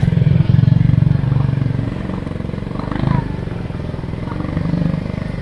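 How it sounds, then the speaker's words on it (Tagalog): Motorcycle engine idling and rolling slowly into Manila Memorial Park, a steady close-up putter with slight revving swells, with people talking over it throughout. "Pwede pala yung makapasok yung motor."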